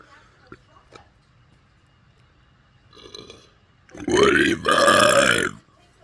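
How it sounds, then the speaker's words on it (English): One long, loud, croaky burp rolls out close to the microphone during a burping challenge, briefly broken in the middle, after quieter breathy sounds. "So that was the burping challenge"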